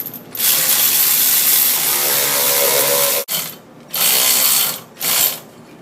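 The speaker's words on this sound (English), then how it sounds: "you take the secondary spreader that comes in the tool kit that comes with the Maverick, spread it, screw it into the threaded hole in the secondary" A secondary clutch spreader tool from the kit is screwed into the threaded hole of the secondary clutch on a Can-Am Maverick, giving close, loud ratcheting and grinding in three bursts with short pauses between them.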